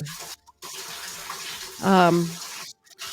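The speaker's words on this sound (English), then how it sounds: "It sounds like you're running water in the background." Tap water runs steadily in the background of a remote podcast call, a continuous soft hiss broken by short gaps, while a voice briefly speaks over it.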